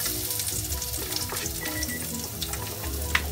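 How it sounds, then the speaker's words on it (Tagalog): Garlic sautés in hot oil in a pan for miki bihon guisado, a close, steady sizzle with crackling pops and some clatter, plus a sharp tap near the end. "Lagay natin yung ating garlic. Then, saute lang po natin ito hanggang sa mag-golden brown."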